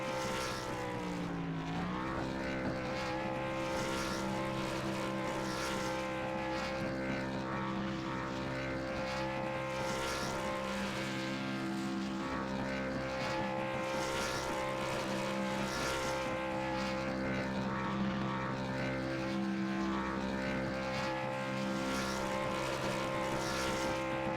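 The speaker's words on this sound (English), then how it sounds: "Get the car revved up and burn down here from the Charlotte road course." Race car engines from an iRacing East Series K&N stock car race on the Charlotte road course, a dense, sustained engine drone with layered tones, loud and continuous throughout with no talk.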